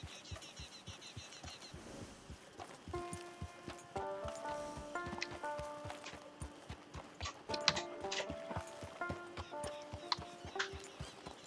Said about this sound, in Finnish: Ei tää kyllä niinku laukkaa ala tää hevonen mistään kohta.